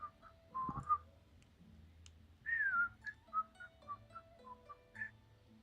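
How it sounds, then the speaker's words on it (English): Someone whistles a quiet string of short notes, some gliding, spaced irregularly over a faint low hum, with no talking. "you can hear my whistling."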